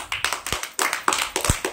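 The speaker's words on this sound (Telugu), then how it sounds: "క్లాప్స్ కొట్టండి" A group of children in a classroom clap their hands in a quick, uneven burst of sharp, close claps with no talking.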